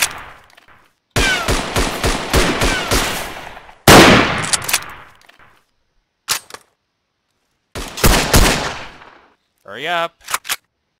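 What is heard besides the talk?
pistol gunfire in the video game Verdun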